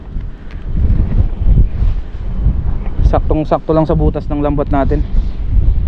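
Strong wind at sea buffets a fishing boat, a constant roar across the whole clip, while someone speaks up close over it.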